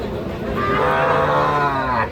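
A heifer calf at a cattle market selling small bulls and heifer calves lets out one long, drawn-out moo, loud and close, with a quiet background.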